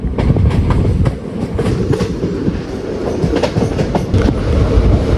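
A passenger train runs along the track near Aluva between Ernakulam and Guruvayur, giving a steady loud rumble with rhythmic clicking of wheels over rail joints, with no voices.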